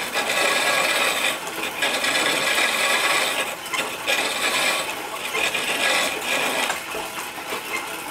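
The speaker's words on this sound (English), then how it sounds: "Right down here on the tenon, I'm gonna use actually one of my easy wood tools." Easy Wood turning tool shaping a straight wooden tenon on a stool stretcher: a continuous scraping, rasping cut with rhythmic pulses across eight seconds, close and fairly loud with no voice.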